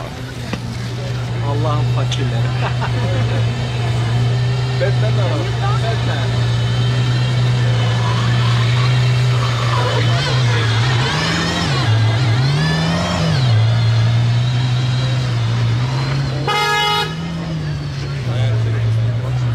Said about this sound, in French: il y a une Aventador qui arrive qui fait un bruit du diable